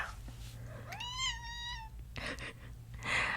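A pet cat gives a single drawn-out meow in a quiet indoor room during a whispered ASMR session, close and clear, with soft rustling before and after.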